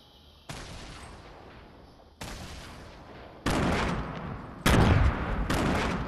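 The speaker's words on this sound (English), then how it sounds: "This dude above me on the building is shooting a grenade launcher like crazy at the dude behind me." Explosive grenade launcher shots ring out in a shooter video game, four to five loud blasts at irregular intervals that grow louder toward the end, each leaving a sustained roaring tail.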